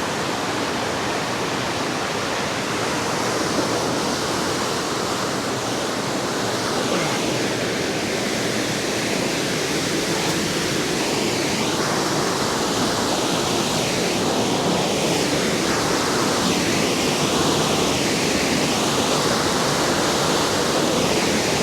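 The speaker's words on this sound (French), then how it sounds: "Ah, elle est là, la cascade." A waterfall on the Estéron river roars steadily and loudly for the whole stretch, a dense unbroken rush of falling water with no voices.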